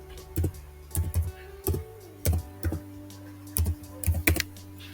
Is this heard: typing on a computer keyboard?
yes